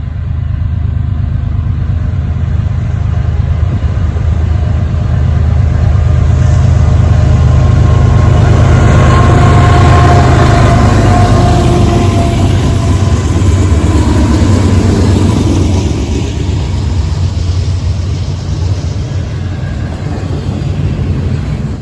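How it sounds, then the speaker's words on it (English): An eastbound BNSF intermodal freight train, with a GE C44-9W locomotive in its consist, rolls by on the Chillicothe subdivision, producing a loud, steady, low rumble that holds throughout with no voices. "on this BNSF intermodal train heading eastbound on the Chillicothe subdivision"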